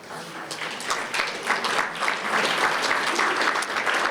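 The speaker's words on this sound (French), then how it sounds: "soyez pas avares des applaudissements" An audience at a volunteer centre's award presentation claps steadily, a dense wash of applause that builds slightly and holds for several seconds, with a few voices faintly mixed in.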